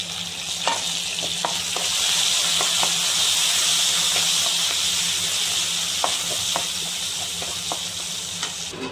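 Curry leaves and coriander sizzle in hot tempering oil, a bright continuous frying hiss with scattered sharp pops and crackles, close and alone without talk.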